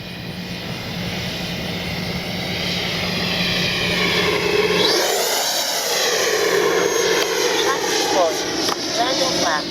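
An FMS Avanti S 90mm ducted-fan RC jet flies past, its loud, sustained whine swelling and shifting in pitch as it sweeps overhead.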